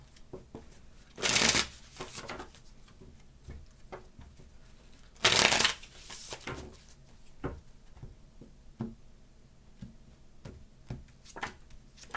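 Tarot cards are shuffled twice in quick riffling bursts, close and crisp, with quieter card handling, taps and rustles in between.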